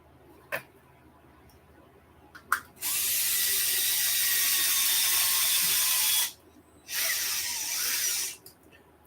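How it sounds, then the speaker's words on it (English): A powered driver whirs in two steady bursts, a longer one then a shorter one, sinking a longer screw into a stripped hole while wrenching at a race practice day; faint clicks come before the first burst. "I got one of these screws kind of stripped out, so I'm just putting a little bit longer one in there"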